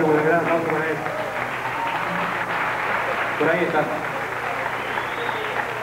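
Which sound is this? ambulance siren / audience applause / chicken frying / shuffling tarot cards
audience applause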